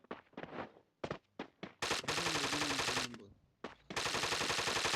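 Video game gunfire from a Free Fire ranked match comes in short bursts, then sustained rapid automatic fire with brief pauses, loud and close in the mix, with a voice faintly underneath.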